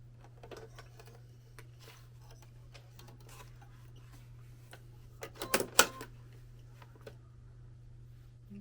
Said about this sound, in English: This machine is a little finicky, so I have it, I turn it on low stitching